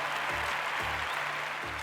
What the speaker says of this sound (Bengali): আরেকবার একটা হাততালি ওর জন্য